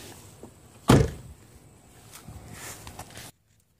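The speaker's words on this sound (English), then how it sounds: "So I closed the door." A car door slams shut with a single loud, close thunk, followed by quieter interior rustling and shuffling before the sound cuts off abruptly.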